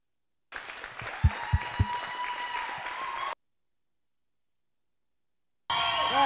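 Crowd at a fitness competition workout applauds an athlete who reached the muscle-ups, steady clapping and cheering for about three seconds with a few sharp thumps, then a gap before the applause resumes.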